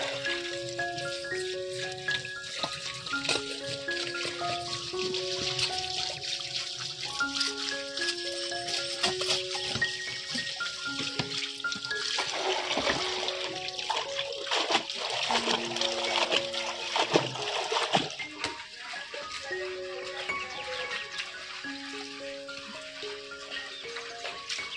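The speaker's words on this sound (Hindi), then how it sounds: "चलिए साग को हम बढ़िया से दो तीन पानी धो लेते हैं।" Kalmi (karemua) greens being washed in water by hand, with continuous splashing and sloshing throughout, layered over background music, with no talk.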